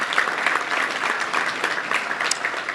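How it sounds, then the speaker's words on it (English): Steady applause from a crowd, dense and continuous clapping throughout with no voices on top. "Let's give them all a round of applause"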